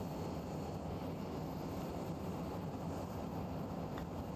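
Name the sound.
vehicle taking off in video game BeamNG.drive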